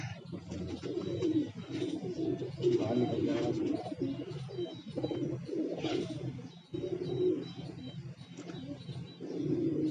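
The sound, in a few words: Kalmue pigeons from Tonk cooing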